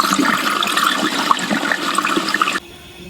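A campervan's waste tank drains at a dump station in a loud, steady gush of water that stops abruptly near the end.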